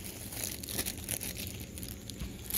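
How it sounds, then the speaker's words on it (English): Steady crinkling and rustling of a plastic bag, soft and close, with scattered sharper crackles throughout. "I am going to put it in a plastic bag"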